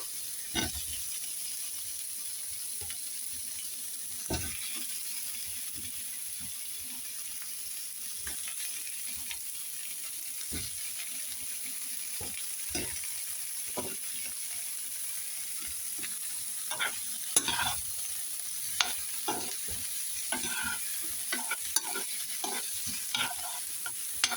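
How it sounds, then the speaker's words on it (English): Onions and tomatoes frying in a pan for a chicken and lentil curry: a steady quiet sizzle broken by scattered spoon scrapes and knocks, growing busier toward the end. "Onions going in. It'll be a while, I think, before they soften. Yeah, throw my tomatoes in with them."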